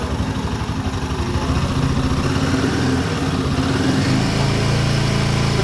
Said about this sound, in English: Now I'm going to rev the bike for you guys so that you can hear how it feels like